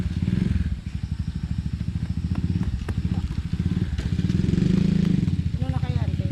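Several motorcycles idle and rev close by in a large gathering spot, with a steady low engine rumble and clatter running throughout while people talk over it.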